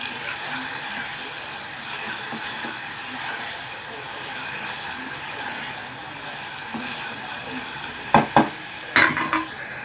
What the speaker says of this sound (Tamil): இதில் கொஞ்சம் ஒரு அரை டீஸ்பூன் அளவுக்கு இஞ்சி பூண்டு போட்டுக்கிறேன்.